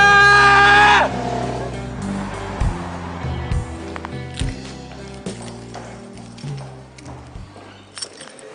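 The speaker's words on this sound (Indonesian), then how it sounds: "Gue mau teriak." A person lets out a loud, high-pitched scream for about a second in a scene from an Indonesian TV drama. The scream cuts off abruptly, and background music with thumps follows.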